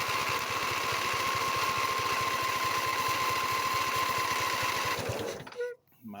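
A John Deere Z245 riding mower with a 23 hp engine runs in a fast, steady, buzzing putter for about five seconds, loud and close, then cuts out abruptly into near silence.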